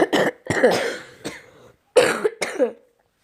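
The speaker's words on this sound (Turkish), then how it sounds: "Kusura bakmayın arkadaşlar. Öksürmem gerekti." Several harsh coughs in two bursts, close to the listener, with a short quiet gap between them.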